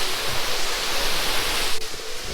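A waterfall at Mt. Ayngat in the Asmican Waterfalls of Rizal gives off a dense, continuous rushing hiss of falling water, loud and unbroken, with no voices.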